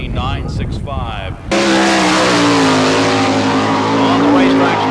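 Sprint car number 8 roaring around a dirt oval track at Barberville, Florida during Speedweek, its engine note rising loud and steady after a brief moment of announcer talk at the start.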